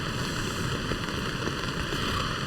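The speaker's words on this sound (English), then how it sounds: "It's just the noise of the rain and the noise of the water in the stream." Heavy rain and a nearby stream at a campsite, a dense, steady broadband wash with no break, fairly loud and close, with no talking.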